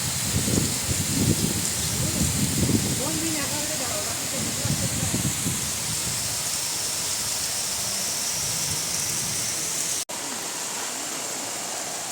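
Heavy rain pours down in a constant, dense hiss in Kankavli before a flood, with voices talking over it during the first few seconds.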